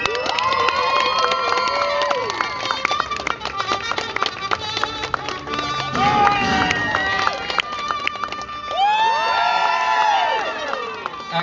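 A crowd at a Virginia Beach street performance cheers loudly and without pause. Shrill whoops and children's shouts rise over the steady roar of voices.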